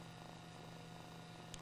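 A kitten purrs close by, a low steady rumble with a faint electrical hum in the background.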